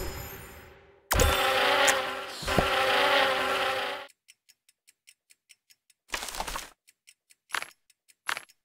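Wasps buzz in the Kick the Buddy 2 mobile game, with a loud continuous droning swarm for a few seconds, then sparse rapid ticking and short intermittent bursts of buzzing.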